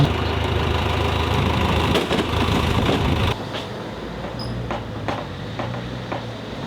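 A delivery truck's engine idles nearby with a steady low rumble that drops to a quieter hum partway through, and a few faint clicks and knocks rise over it.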